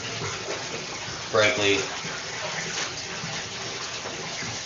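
Water runs into a bathtub as a steady, hissing gush that fills the background throughout, while a voice briefly speaks over it.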